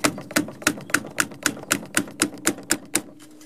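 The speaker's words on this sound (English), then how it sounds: "Hammering it down" A purge solenoid hose is hammered down onto its metal clip with a quick run of about a dozen sharp, evenly spaced taps, close and fairly loud, with no one speaking.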